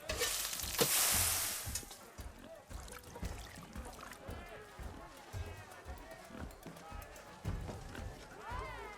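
Food sizzles and fries in a pan in the video game Horizon Forbidden West, a soft crackling hiss with light stirring sounds that sits among other quiet in-game noises.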